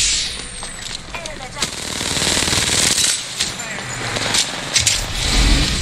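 Rapid gunfire and bursts of shots from an Apex Legends duos match, dense and loud with sharp repeated cracks over a busy game soundscape, while players talk throughout.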